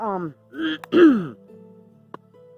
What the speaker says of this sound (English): excuse me, I'm coughing